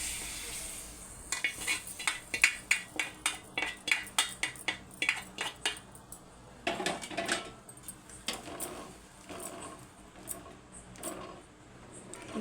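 Metal spoon scraping and clinking against a pan while roasted vermicelli (semiya) is stirred, a quick run of rhythmic taps and scrapes that slows into looser, fainter stirring sounds.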